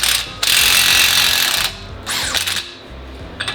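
A socket wrench worked on the axle nut of a Ford Bronco, a loud sustained mechanical whirr followed by shorter bursts and a final quick rattle, close up and without talk.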